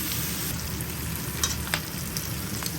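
Split green chillies dropped into a hot pan for a Chinese-style shrimp dish, a dense continuous sizzle with a few brief sharper crackles and spatters.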